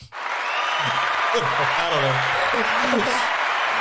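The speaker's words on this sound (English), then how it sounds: "That's a long applause" A long, steady wash of applause plays as a sound effect on a quiz show, holding loud and even for several seconds while a voice talks over it.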